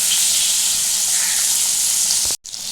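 Pieces of pointed gourd (potol) fry in hot oil with a loud, steady close sizzle and hiss that drops out sharply near the end before resuming, no talk.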